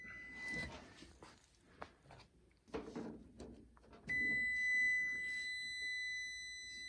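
A multimeter gives a steady, continuous continuity beep while testing the wire from a clothes dryer timer, starting briefly, then holding as a long tone after handling and clicking noises.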